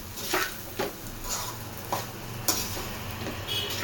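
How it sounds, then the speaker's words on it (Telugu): Egg fried rice being tossed and stirred in a hot pan, with intermittent scraping strokes of a spatula against the metal and a faint steady sizzle underneath, each stir landing as a brief close clatter. "ఆ రైస్ ఇందులో వేసుకుందాం. మొత్తం పై నుండి కిందకి ఇలా కలుపుకోవాలి బాగా."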